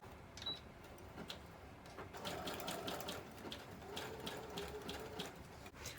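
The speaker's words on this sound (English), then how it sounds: "Maybe this is where I could add a little bit of that stitching in." A sewing machine stitches through layered paper ephemera pieces in a steady run of rapid mechanical clatter, close and continuous, with a brief pause before the stitching resumes.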